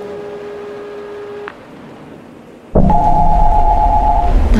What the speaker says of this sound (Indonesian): telepon itu berbunyi lagi